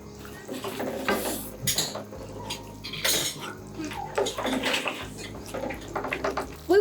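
A fish escabeche sauce with fried rabbit fish, whole peppercorns and tomato sauce stirred in a pan: repeated clinks and scrapes of a utensil against metal, with wet sloshing between the strokes, close up.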